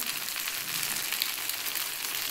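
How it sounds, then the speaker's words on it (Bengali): Chira (poha) flatbread fries in a pan with a steady, even sizzle that holds at a constant level throughout, close by and with no voices over it. "এটা আস্তে আস্তে এক পিট করে ভাজতে হবে।"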